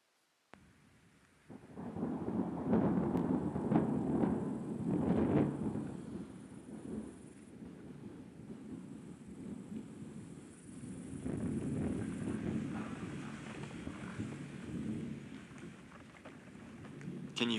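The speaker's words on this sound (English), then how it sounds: "about midnight, a huge thunderstorm rolled in" A huge midnight thunderstorm rumbles over swampland slough, deep rolling thunder swelling and fading in long waves with steady rain hissing underneath, heard alone without voices.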